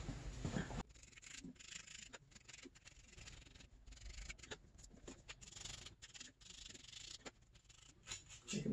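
Electrical ground contacts on an Arctic Cat ZR 800 snowmobile engine being scrubbed clean, a close, rapid, uneven series of rasping rubbing strokes with brief pauses, quiet and with no talking.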